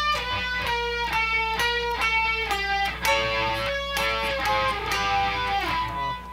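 Electric guitar playing a solo phrase from a song, with clear melodic picked notes and bends up close, building into a denser, brighter run toward the end.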